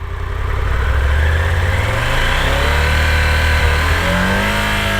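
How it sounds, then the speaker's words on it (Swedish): A Triumph Tiger 1200 GT Pro triple-cylinder T-plane motorcycle engine revs up and down nearby, its pitch climbing and falling smoothly in a continuous, throaty drone. "trippelljudet kommer ju på högre varv"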